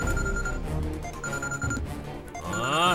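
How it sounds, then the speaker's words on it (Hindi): A telephone rings in a tense Hindi action drama, its steady electronic ring repeating in bursts over a low music bed before the call is answered. "भाई वकील का फोन।"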